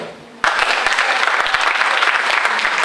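A crowd at a national awareness caravan rally for peaceful 2021 elections bursts into loud, sustained applause after a brief quiet moment, the dense clapping continuing steadily to the end without speech.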